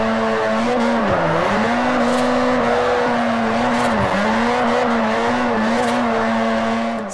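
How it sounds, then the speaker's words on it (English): Car engine in the Forza Horizon racing game revving loudly and steadily while drifting, pitch dipping briefly around each slide with faint tire squeal, continuous and close throughout. "your engine sounds amazing"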